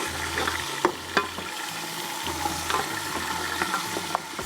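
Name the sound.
onions sizzling in pan as water is added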